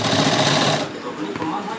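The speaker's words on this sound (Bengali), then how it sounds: "এই 5 ইঞ্চি 2 সুতো নিয়ে এবার সেলাইটা করে নেব।" A sewing machine stitches a blouse sleeve, running in a steady dense rattle for about the first second before stopping, followed by quieter handling noise; a voice speaks during the clip.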